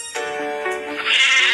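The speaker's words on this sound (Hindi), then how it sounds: "भेड़" One loud sheep bleat, a wavering drawn-out cry that rises in pitch near the end, close and alone.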